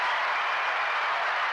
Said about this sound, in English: I think you deserve an applause.